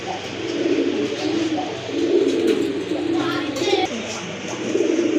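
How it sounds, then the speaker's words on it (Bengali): Several pigeons coo in overlapping, continuous low burbling calls close by, with a pair of Giribaz pigeons among them at a pigeon market. "এখানে কিন্তু আরেক জোড়া কবুতর আছে"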